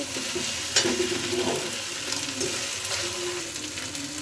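Cumin seeds and dry chilies stir-frying in a pan make a soft, continuous sizzle, with scraping stirs and light clinks heard close up.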